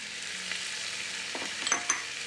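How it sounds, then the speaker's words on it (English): Onion, garlic, grilled tomatoes and chili sauté in a pan with a steady, moderate sizzle, and a few light utensil clicks and scrapes come toward the end, close up and without speech. "We're gonna saute that till it sweats down a little bit, gets a little color."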